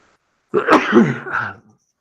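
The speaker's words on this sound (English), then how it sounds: "Normally I try to mute myself before I sneeze, but it came on a little bit too fast." A single sneeze caught on a live-stream microphone, a loud, close burst lasting about a second with a rough, throaty release and no talk around it.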